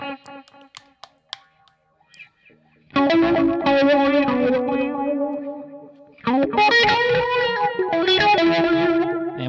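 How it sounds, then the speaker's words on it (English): Electric guitar through an auto wah effect on a Boss Katana amp, with a few sparse plucks giving way to loud rhythmic strummed passages whose tone sweeps and quacks, pausing briefly before resuming. "Let's do this auto wah. I like a good auto wah sound"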